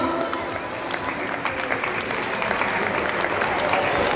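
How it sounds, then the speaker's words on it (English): Audience applause at a PYP 5 school graduation ceremony, steady dense clapping from a large crowd in a hall, fairly loud and continuous throughout with faint voices underneath. "Please give them a big round of applause."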